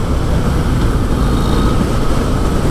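A Harley-Davidson Fat Boy motorcycle cruises at around 70 mph, its engine a loud, low, continuous throaty drone blended with heavy wind rush, steady throughout with no talking.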